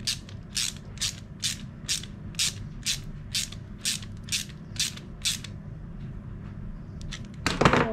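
An Allen key tightens the axle of a Time bicycle pedal, giving a run of about a dozen sharp, evenly spaced ratcheting clicks up close, followed by a louder clunk at the end.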